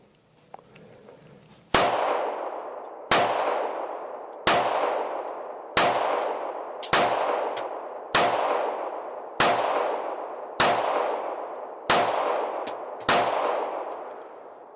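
A SIG P365XL pistol fitted with a Wilson Combat grip module fires ten loud, sharp shots at a steady, unhurried pace, each crack ringing out with a short decaying echo, after a brief quiet lead-in.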